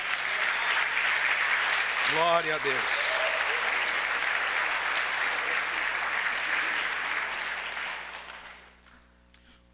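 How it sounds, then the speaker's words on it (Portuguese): A church congregation applauds steadily, broad dense clapping that fades out near the end; a voice briefly calls out over it early on. "Vamos aplaudir Jesus,"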